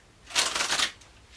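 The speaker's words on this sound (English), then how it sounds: "One more shuffle." A deck of tarot cards is riffle-shuffled once, giving a quick, crisp flutter of about half a second. The shuffle sounds close and fairly quiet against a silent room.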